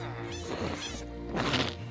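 A Minecraft cat lets out drawn-out, wavering meows close by, two or three cries running together over a couple of seconds.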